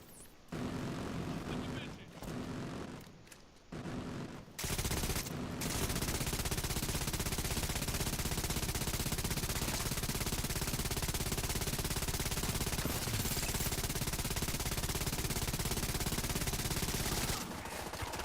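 Sustained gunfire from The Division 2 shooter game: a dense, unbroken wall of rapid shots and combat noise runs loud for most of the stretch, after a few choppy bursts at the start, with a player talking at times.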